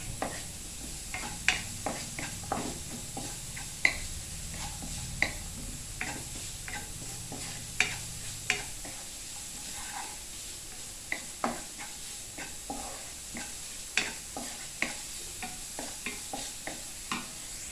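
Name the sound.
smoked beef sizzling while being stir-fried in a pan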